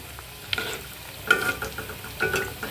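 Beef pieces sizzle quietly in a pan on low heat while a utensil scrapes and turns them, producing a few louder bursts of stirring and spattering.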